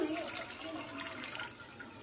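Tap water pours steadily into a container, a continuous close splashing rush filling the whole moment with no talk over it.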